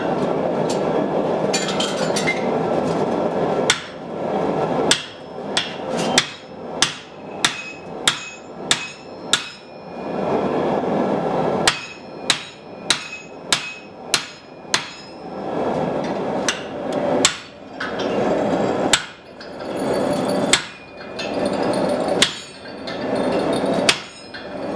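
Repeated hammer blows drift the eye of a forged steel hammer, struck in quick rhythmic bursts of sharp metallic hits with short pauses between groups, close and loud over a steady background roar.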